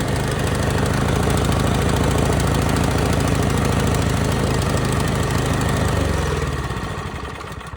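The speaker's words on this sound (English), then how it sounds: "And let's see if it starts with one pull or another." A snowblower's small gasoline engine, just started by pull cord on choke, runs loud and steady with a chugging low rhythm before winding down near the end.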